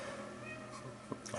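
A female cat meows indoors, a short cry near the end over a steady room hum from a running pellet stove and household electrics.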